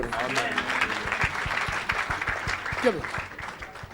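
A church congregation applauds in steady, dense clapping that continues throughout, with voices calling out and talking over the applause.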